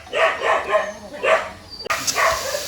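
A dog barks in quick bursts, several sharp barks in a row with brief pauses, fairly close and loud.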